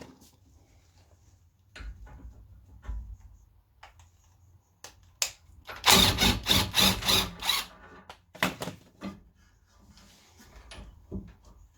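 Someone removes 15 mm bolts from the rear top mount of a Ford Mondeo ST220 with a ratchet. A burst of rapid ratcheting clicks comes near the middle, and scattered metallic taps and clunks of the tools fall around it.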